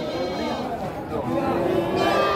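Goats at a livestock sale, two females and a male, bleat in wavering cries at moderate distance while people talk nearby.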